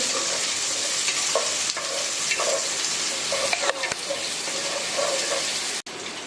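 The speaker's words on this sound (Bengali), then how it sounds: "পেঁয়াজটা ভালোভাবে নেড়ে চেড়ে ভেজে নিব।" Onions for khichuri frying in hot oil while being stirred, a steady close sizzle with intermittent scraping strokes of the spatula, continuous throughout with a brief dip near the end.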